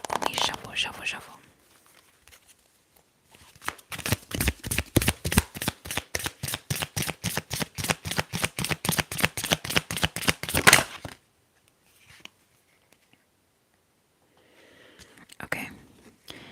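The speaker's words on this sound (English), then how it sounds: "Let's go ahead and shuffle this." Tarot cards are shuffled in a fast, crisp riffle lasting several seconds, each rhythmic flick close and distinct, with soft whispering before and after.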